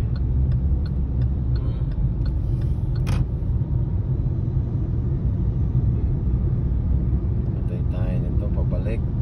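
Road traffic rumbles steadily and loudly throughout, with a continuous low drone of car engines close by, a brief louder passing sound near the start and faint voices in the background.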